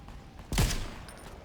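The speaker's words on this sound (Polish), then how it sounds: "Granaty do mnie lecą. I są strzały do mnie." A single sharp gunshot in Fortnite bursts out, loud and brief, with a short rumbling decay afterward.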